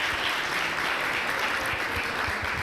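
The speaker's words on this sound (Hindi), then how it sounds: "जोरदार तालियां होनी चाहिए यार इस टीम के लिए यार" Dense, steady applause fills a hotel hall at an anniversary event as an audience claps for a team, continuous and close with no break.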